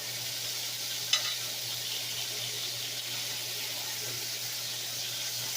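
Meat for BBQ sears in a sticking frying pan, giving a soft, steady sizzle with one sharp tap near the start and a low hum underneath.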